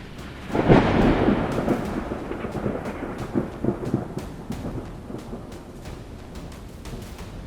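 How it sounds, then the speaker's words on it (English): Close lightning strike captured by a doorbell camera outside a home in Elgin: a loud thunder crack that rolls and rumbles away over steady rainfall, with occasional sharp ticks and drips through the remainder. "A doorbell camera in Elgin captures lightning striking just steps from a home dangerously close."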